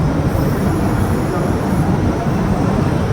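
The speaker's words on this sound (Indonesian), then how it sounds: "Jadi ini kereta api Purwojaya full eksekutif, menggunakan eksekutif Neo Imek tahun 2016." Purwojaya executive passenger train with 2016 Neo executive cars rolls past in a steady, loud rumble, a continuous roar of wheels and carriages without breaks.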